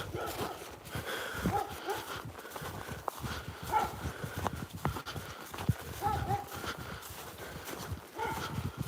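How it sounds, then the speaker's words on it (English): A dog barks faintly in the distance outdoors near an old church on the Scottish-English border, a few sparse barks under nearby footsteps and crunching on a track. "I can hear a dog, but I can't see one."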